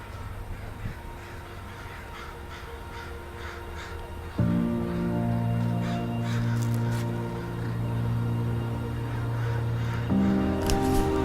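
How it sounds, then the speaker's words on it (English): Crows caw repeatedly at a moderate distance outdoors around sunset, over a steady low hum that shifts pitch partway through. "there's a lot of birds too"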